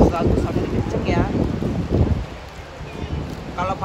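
Strong coastal wind gusting outdoors by a rocky reef shore, a steady buffeting rush of wind noise with people talking over it throughout.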